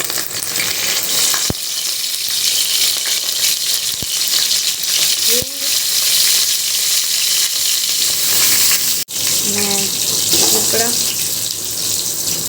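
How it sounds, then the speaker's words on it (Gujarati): Mustard seeds, cumin and curry leaves hitting hot oil in a Gujarati kitchen, a loud steady sizzle and crackle with a few sharp pops, later spattering harder as more goes in. "તેલ ગરમ થઈ ગયું છે. હવે એની અંદર આપણે નાખશું રાઈ, જીરું,"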